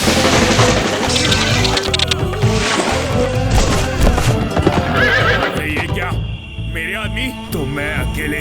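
Cartoon horse from the Chhota Bheem kids' animation, neighing and whinnying with hoof clip-clops over a busy, loud music score, with a voice calling out briefly near the end.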